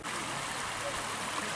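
Mississippi River headwaters flowing out of Lake Itasca, Minnesota, a steady soft rush and trickle of shallow moving water, moderately close and continuous throughout.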